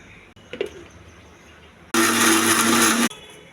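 A mixer grinder whirs loudly for about a second, blending peanuts, spice powder and tomato pieces. Faint small knocks come before it and quiet follows.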